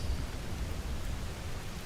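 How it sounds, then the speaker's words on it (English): Steady rain hisses as an even, soft wash with a low rumble beneath, part of a guided sleep meditation. It is faint and continuous, with no voice. "Listen to the sound of the rain and smell the greenery all around you."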